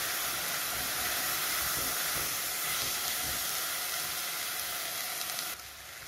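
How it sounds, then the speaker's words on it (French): White wine poured into sizzling risotto rice in a hot pan gives a loud, dense hiss of steam and frying that holds steady and then drops off sharply near the end, with no talk. "je vais ajouter les 10 centilitres de vin blanc"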